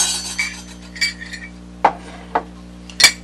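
Butternut squash soup being ladled into a bowl, with a few sharp, bright clinks of a utensil against dishware spaced over a few seconds, close and clear, with no talking.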